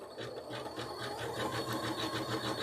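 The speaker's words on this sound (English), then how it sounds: "It's a wonderful sewing machine." An Elna embroidery sewing machine stitching with 50-weight thread, its needle mechanism running in a fast, even mechanical rhythm, close and steady throughout.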